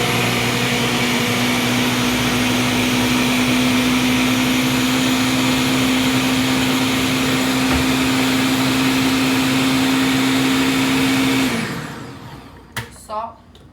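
A kitchen blender whirs at a steady high pitch through creamy corn cake batter made with cornmeal, loud and continuous for about eleven seconds before switching off and spinning down, followed by brief clatter.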